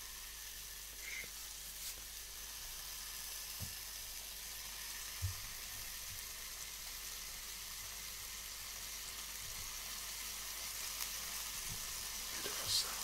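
Food sizzles steadily on a hot surface, a continuous crackling hiss with occasional soft pops and faint clinks, close by and without talk.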